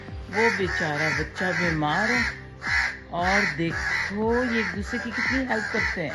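Many crows of different kinds gathered around an injured young bird, cawing repeatedly in harsh overlapping bursts close by, while someone talks over them.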